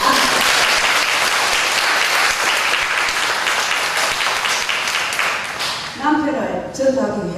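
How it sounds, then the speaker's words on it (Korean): A church congregation at a Sunday service gives a big, sustained round of applause, loud and dense, that thins and fades near the end as a voice begins speaking over the last scattered claps. "저희 남편 칠성 씨한테 큰 박수 부탁드립니다"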